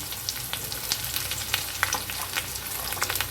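Chopped onion and whole peeled garlic cloves sizzle in hot oil for chicken fry, a steady close crackle dotted with sharp little pops throughout, with no voices.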